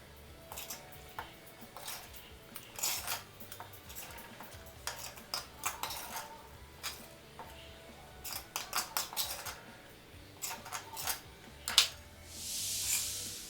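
Quiet, scattered clinks and scrapes of a spoon against metal and a mixer jar as cooked capsicum for chutney is spooned in, irregular taps spread out over several seconds.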